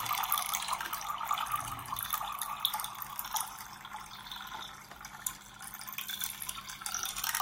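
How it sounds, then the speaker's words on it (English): Ambient water sound played in a music studio: a steady, low trickling and splashing wash of liquid, moderately quiet and continuous, with no voices. "here we have also the water sound"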